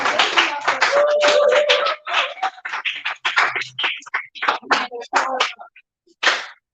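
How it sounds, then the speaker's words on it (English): A youth event audience claps for themselves in sparse, uneven bursts. Individual sharp claps are separated by gaps and taper off into scattered hits with a short pause before a final burst. "So can we applaud yourselves?"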